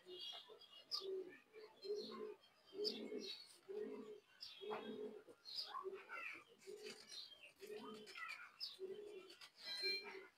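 Close-up pigeons, a male and female among them, coo in a steady rhythm, one low rolling coo about every second, with faint chirps and light rustling in between.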